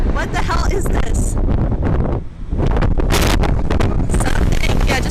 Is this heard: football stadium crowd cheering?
no